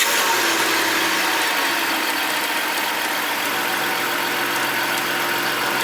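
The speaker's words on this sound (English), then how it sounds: "Start it up, you can keep it running, go through the gears." A Ford Territory engine idling steadily while its ZF6HP26 six-speed automatic transmission is being filled with fluid, a constant even hum and vibration throughout with no speech.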